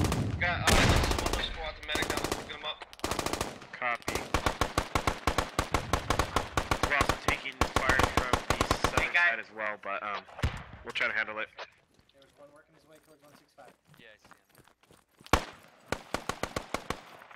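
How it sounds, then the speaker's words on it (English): Video game firefight on a riverside map, with bursts of automatic gunfire and single shots cracking nearby, heavy at first and then sparser, while players talk over radio between and under the shots. "Squad 1, we're taking shots directly to your northwest on the riverside."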